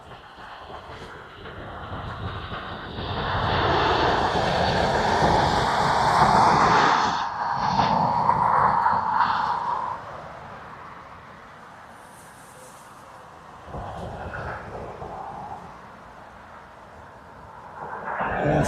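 A Ryanair airliner from Manchester arrives at a windy Dublin Airport, its engine roar building and holding strongly at a distance, then fading, with wind rumble throughout and another swell at the end.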